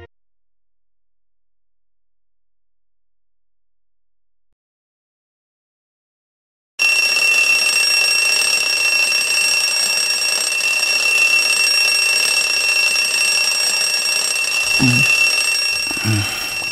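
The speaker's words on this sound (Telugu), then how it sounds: "అలారం కొంచెం ఆఫ్ చేయవే." A mobile phone alarm starts after several seconds of silence, then rings loud and continuous with a steady electronic tone, close by, with a couple of faint low thumps near the end.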